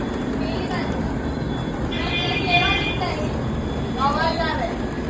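A train rumbles past steadily with wheel and rail noise, while people talk nearby over the continuous roar.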